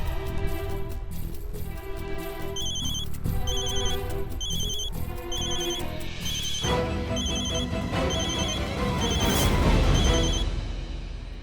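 A telephone rings after a number is dialed, with repeated electronic trill bursts in a regular pattern. Faint background music plays underneath, and the ring grows louder toward the end.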